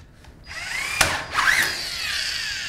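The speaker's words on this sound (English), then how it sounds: "I can now secure by using two wafer head screws" A drill drives wafer head screws into a metal stud leg in a wall opening: a short whirring run with rising and falling pitch as the screw bites, close and clear.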